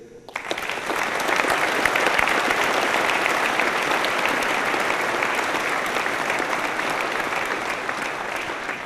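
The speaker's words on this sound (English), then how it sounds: "please join me in a round of applause in recognizing the soldiers of the great 2nd Infantry Division" Loud, sustained applause from a ceremony audience honoring soldiers of the 2nd Infantry Division at a change of responsibility and retirement event, rising quickly and holding steady throughout.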